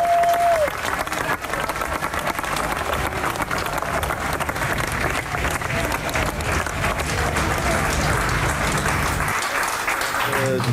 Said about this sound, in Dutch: een daverend applaus geven aan